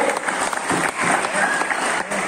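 An audience at a wrestling event claps in a dense, steady burst of applause that carries on without a break from start to finish.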